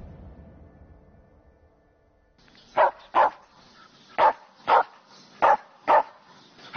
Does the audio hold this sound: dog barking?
yes